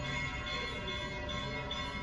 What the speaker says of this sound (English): This bell has been going off every 30 minutes or something, and it just goes off incessantly